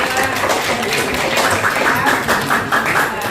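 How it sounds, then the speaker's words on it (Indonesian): Classroom applause for a student group in an eighth-grade Indonesian language lesson, a dense, steady patter of many hands clapping throughout, fairly loud and close with faint voices mixed in. "Ya, tepuk tangan untuk kelompok 2."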